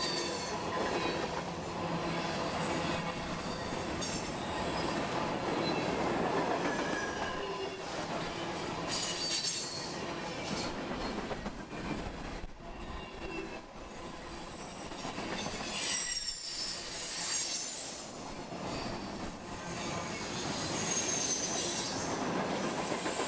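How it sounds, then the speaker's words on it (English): A southbound Norfolk Southern auto rack freight train rolls along the main line near a grade crossing in Kentucky, a steady, close rumble of railcars with wheel squeal and clatter throughout, fading slightly midway, with no talk. "There we can see a southbound auto rack making its way to Louisville."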